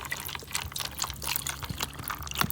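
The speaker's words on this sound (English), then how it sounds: "Chuck a bit of water in here." Water poured over fractured opal pieces salvaged from scrap, a soft splashing trickle running steadily for a couple of seconds, close and fairly quiet with no voices.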